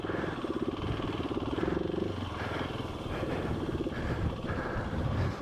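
A GasGas ES700 dual-sport dirt bike engine thrums loud and close while riding off-road, its single-cylinder beat rising and falling with throttle changes over rough ground, with rattling and wind noise mixed in.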